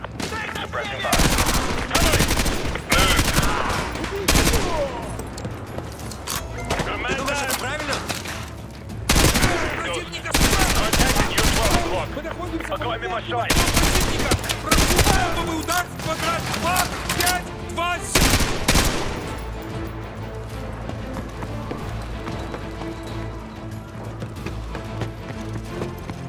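Gunfire roars through a Call of Duty Modern Warfare 2 campaign battle, dense bursts of automatic fire and single shots coming in loud, repeated volleys, with radio-style voices and battle noise mixed in.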